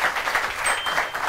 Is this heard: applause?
yes